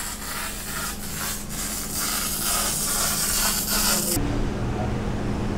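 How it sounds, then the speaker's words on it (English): Welding on trailer attachments inside a trailer factory, a steady broad crackling hiss that carries on for several seconds without pause and drops away briefly near the end, with no talking. "And they're welding away."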